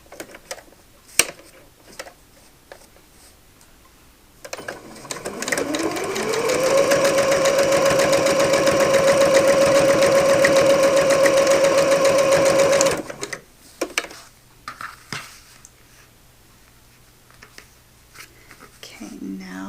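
A sewing machine stitches a faux leather wallet, running a steady whirring seam for about six seconds, rising in speed at the start and stopping abruptly, with quiet handling clicks before and after.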